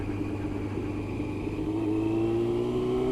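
A Yamaha Thundercat 600cc motorcycle engine drones steadily while downshifting under braking, its pitch gradually rising as the revs climb, mid-distance and continuous with no voices.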